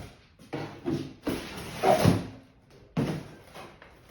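A Harbor Freight square drop camper door rattles and scrapes as it is worked loose and pulled free, with a few clunks and knocks, fairly close.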